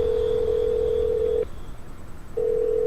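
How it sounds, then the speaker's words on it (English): A telephone rings in the video game Zap Zap Zombie Cats, with a loud, steady electronic tone, a short silent gap, then the ring starting again. "Phone is ringing."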